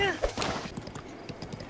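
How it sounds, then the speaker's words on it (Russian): Horse hooves clip-clop in a steady, quick rhythm as the horse approaches in The Legend of Zelda: Breath of the Wild, moderately loud and close, mixed with other game sounds. "Лошадь такая моя подошла"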